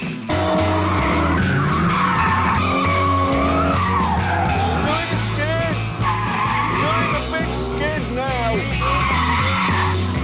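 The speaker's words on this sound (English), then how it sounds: "Hammond suggested we should see who could do the best donuts" Car doing donuts with tires squealing and skidding continuously over a revving engine, loud and sustained throughout, with wavering screech pitch as it spins; someone speaks over part of it.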